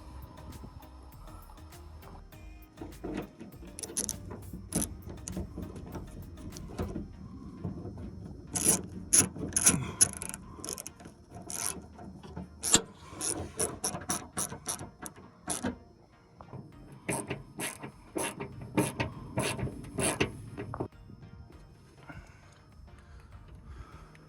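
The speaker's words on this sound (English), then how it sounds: "put that final nut on, just to make sure it's nice and secure" Final nut being tightened with a hand tool on a junkyard machine built entirely from scrap parts: close, uneven bursts of metallic ratcheting clicks and scraping that grow busier toward the middle, with no talking.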